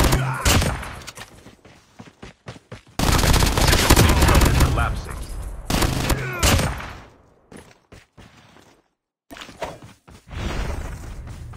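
Rapid bursts of MSMC submachine gun fire in a Call of Duty match, loud and close, with repeated volleys broken by brief pauses and a few sharp single shots.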